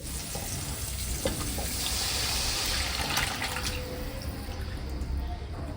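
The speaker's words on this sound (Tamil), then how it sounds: "புளி தண்ணி ஊத்திடலாமா" Tamarind water pours steadily into a pan for fish curry, a continuous close splashing and trickling that stays even throughout.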